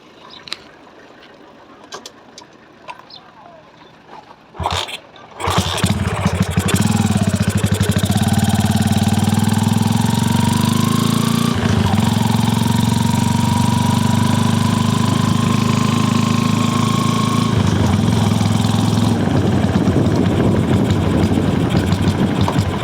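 A motorcycle with a cone-shaped exhaust pipe starts after a few quiet seconds, then runs loud and close with a steady, droning engine note that rises briefly as it revs, with no talking.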